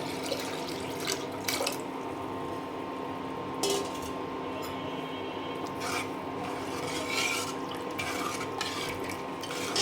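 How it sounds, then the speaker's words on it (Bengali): Water is poured into dal cooking with beef in a pot, a steady wash of liquid over a low kitchen hum with a few scraping, stirring knocks. "আমি এখন পরিমাণ মতো পানি দিয়ে দেবো"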